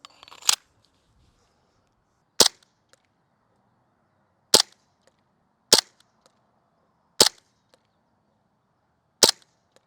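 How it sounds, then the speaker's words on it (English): Six sharp airsoft gun shots at a shooting test, spaced roughly one to two seconds apart, each a crisp snapping crack standing out against a quiet background. "Let's now go to the shooting test and see if it keeps impressing us."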